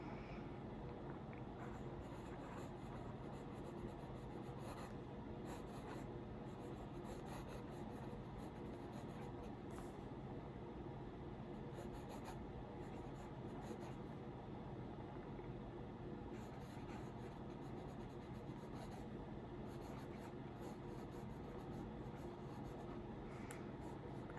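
A Lamy Safari fountain pen with a medium nib and black cartridge writing on paper, a faint continuous scratchy rubbing with small strokes, steady and close throughout.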